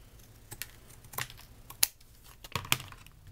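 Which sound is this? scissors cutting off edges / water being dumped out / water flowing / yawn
scissors cutting off edges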